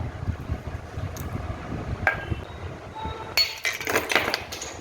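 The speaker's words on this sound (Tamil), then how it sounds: "இப்போ நான் ஐஸ் கட்டி உடச்சி போட்டுக்கிறேன்." Ice cubes being broken and dropped in while making chilled buttermilk: a few sharp glassy clinks and clatters, one at first and then a denser burst near the end, over faint background hiss.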